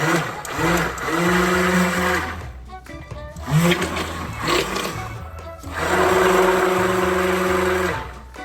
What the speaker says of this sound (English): put my stick blender over that teaspoon of mica that's on top, and I'm just gonna blend it